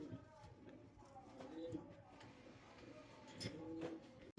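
Polish Owl fancy pigeons cooing softly in a loft, low throaty coos repeating under faint background noise and murmured talk.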